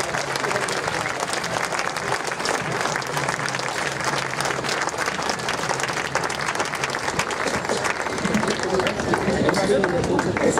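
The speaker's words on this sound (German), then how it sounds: "empfangt ihr mit einem warmen Applaus." A large crowd at a Freiheit statt Angst street rally in Berlin applauds a speaker with dense, continuous clapping and cheering that carries steadily for over ten seconds.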